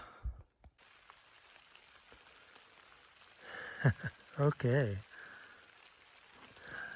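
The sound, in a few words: rain falling on tarp while hiking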